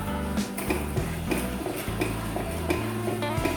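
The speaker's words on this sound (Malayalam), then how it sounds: "അത് ഇളക്കി കൊടുക്കാം" Hot milk with sugar stirred in a pan for rava pudding: a spoon scrapes and taps against the metal in a loose repeating rhythm, moderately close, with music playing underneath.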